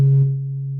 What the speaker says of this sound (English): Let's patch a triangle wave in. So this is a triangle wave